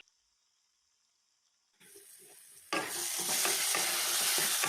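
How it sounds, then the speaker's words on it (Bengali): Ground spices, including Kashmiri chilli powder and coriander powder, are stir-fried in a pan for aloo dum. After near silence, a soft hiss starts, then a loud, steady sizzle with scraping stirring noises takes over, close up. "এই সমস্ত গুঁড়ো মশলা সহ পুরো মশলাটাকে খুব ভালোভাবে কষিয়ে নিয়েছি"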